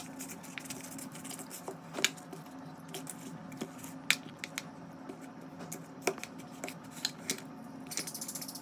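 Hands mix hilsa fish pieces with yogurt, turmeric and mustard oil into a marinade, making soft wet squishing and sticky smacking sounds, quiet and close, with occasional sharper clicks scattered through.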